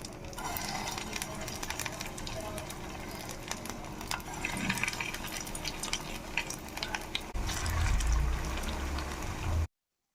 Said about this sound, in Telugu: నూనె ఇలా కాగిన తర్వాత సిమ్లో పెట్టుకుని ఇప్పుడు నగ్గెట్స్ వేసి ఫ్రై చేసుకుందాం